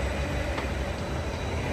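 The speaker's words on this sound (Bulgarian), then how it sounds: "От точно този влак." A train rumbles steadily close by, a loud continuous low roar with broadband noise and no distinct pauses over a short stretch.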